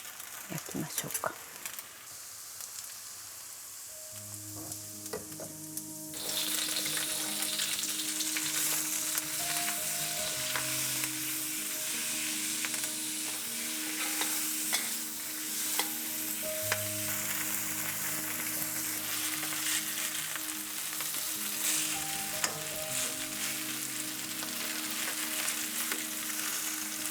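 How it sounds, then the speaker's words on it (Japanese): Yakisoba noodles fry and get stirred in a pan at home, a steady broadband sizzle that swells louder after the first few seconds, with scraping stir sounds and faint background music throughout. "もうちょっと焼きましょうか。"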